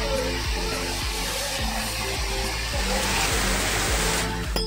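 Water falls steadily from above onto a Shiva lingam inside a dark cave shrine, heard as a loud, continuous rushing hiss that stays constant throughout, with a low, regular thumping underneath.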